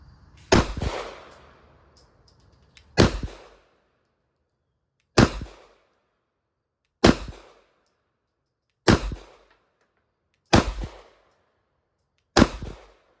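Seven loud pistol shots from 9mm and .380 pocket guns fired at a 10-yard target, each a sharp crack with a short ringing tail, spaced about two seconds apart, close to the shooter with no talking.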